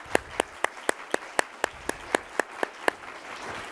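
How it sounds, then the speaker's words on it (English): Audience members at an economics research conference's policy panel clap for the panelists: a dozen sharp, evenly spaced claps from only a few hands, close and fairly quiet, stopping after about three seconds. "I think we can all give them a big round of applause."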